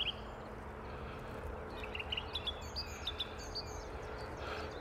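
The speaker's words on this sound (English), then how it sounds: "Chiff chaff." A chiffchaff sings short, repeated chirping notes at a distance on open heathland in the Peak District, faint over a steady outdoor rush of wind or background noise.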